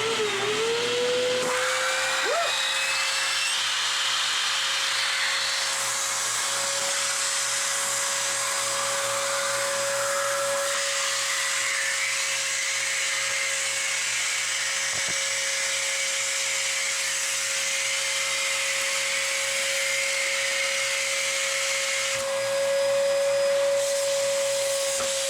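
A vacuum cleaner fitted with a cardboard paper towel tube as a nozzle runs continuously for about 25 seconds, a loud, even whine with a steady high tone that shifts slightly as the nozzle is adjusted.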